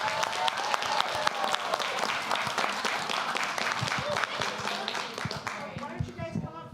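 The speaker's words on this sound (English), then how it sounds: "All right, another round of applause," A round of applause in a room during a village mayor and board of trustees meeting, brisk close clapping from a group that holds steady for several seconds, then tapers as scattered claps and a voice come through at the end.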